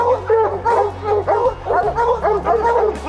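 Hunting hounds bark and yip continuously at a treed bear in North Carolina bear country, a dense chorus of overlapping yelps with a steady low drone underneath.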